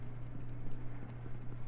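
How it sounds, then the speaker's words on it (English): Rapid, even footsteps from Call of Duty Mobile patter in a steady rhythm over a low background hum, sounding close and fairly loud. "I hear footsteps"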